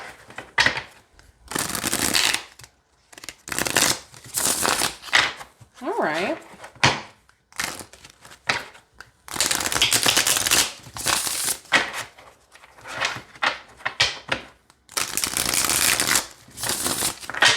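Tarot Illuminati cards shuffled by hand at close range, in repeated bursts of crisp riffling separated by short pauses, while a person talks briefly between the shuffles.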